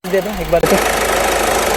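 A 2015 Ford Ecosport Titanium with its engine idling, a steady, even running noise that follows a brief spoken remark.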